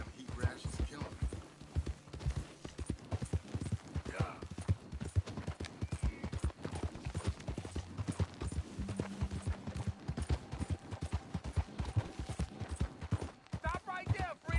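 Horse hooves clip-clop steadily and continuously in Red Dead Redemption 2, up close and loud, with a horse snorting now and then and brief voices from other characters.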